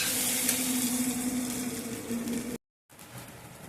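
Mashed cauliflower being stirred and fried in a pan, giving a loud, dense sizzle with a continuous hiss, then a sudden short gap before a quieter sizzle returns.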